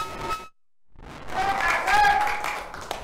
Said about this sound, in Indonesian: Boleh kita kasih tepuk tangan luar biasa dulu.